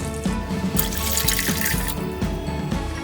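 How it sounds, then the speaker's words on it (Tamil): Four cups of water pour into a pot to make sugar syrup for gulab jamun, giving a steady, close splashing and trickling stream with small bubbly gurgles throughout. "இதுக்கு 4 கப் தண்ணி விடுறேன்."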